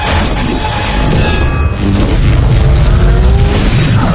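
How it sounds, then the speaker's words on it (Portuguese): A thunder sound effect for a lightning strike, in a Thor and Zeus parody, booms loud and dense across the whole clip with a rolling, crackling rumble and no speech. "Esse é o som do raio."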